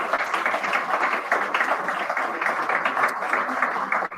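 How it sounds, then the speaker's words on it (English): A crowd at a live talk event bursts into sustained applause, dense, even clapping filling the room at close range for about four seconds before cutting off abruptly. "Well, Noel, I think that deserves a round of applause, actually."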